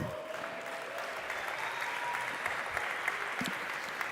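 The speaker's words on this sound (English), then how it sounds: "A big applause for them, please." Warm, sustained applause from an audience at an awards ceremony for pizza chains, continuous clapping of moderate loudness with a faint voice or tone near the start.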